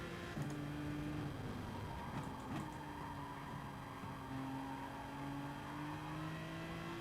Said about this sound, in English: We've got a good car, Aston Martin, sexy little thing, makes a great noise